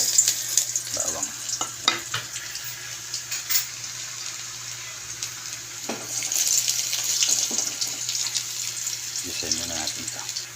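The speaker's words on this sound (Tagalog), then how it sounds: "Gisa na tayo ng bawang." Garlic sautéing in a pan for spaghetti sauce, a steady hissing sizzle with occasional scrapes and clatter of stirring, close and moderately loud, with faint voices in the background.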